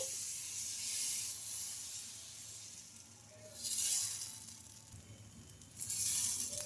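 Dosa batter of peanuts and moong dal spread over a hot pan, a soft continuous hissing sizzle that swells in two louder surges, heard close and without speech.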